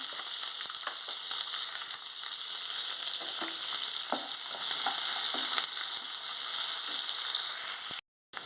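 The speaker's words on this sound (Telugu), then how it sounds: "ఆయిల్ హీట్ ఎక్కింది ఆవాలు జీలకర్ర వేసేసుకుంటున్నాను ఆనియన్స్ పచ్చిమిర్చి వేసుకుంటున్నాను" Mustard seeds, cumin, onions and green chillies fry in hot oil, making a continuous loud sizzle with scattered crackles and pops, then a brief dropout near the end.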